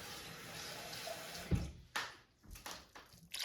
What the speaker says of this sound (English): So I'm going to add a tiny little bit of water,